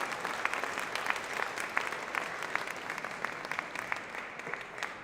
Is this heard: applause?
yes